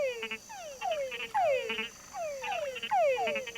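Mud puddle frogs give repeated mating calls, a series of loud, close descending croaks with buzzy overtones in an uneven rhythm, heard alone with no talk.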